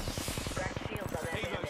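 Rapid automatic gunfire in Apex Legends, a fast burst of dense repeated shots close up and loud, with a voice talking over it.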